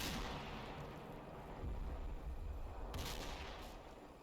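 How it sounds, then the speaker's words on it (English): Artillery and mortar shells firing and landing in the WWII strategy game Combat Mission during the Operation Epsom fighting, a low rumbling barrage with distant thuds and a sharper burst near the end. "I trade artillery shells and mortar shells with the SS."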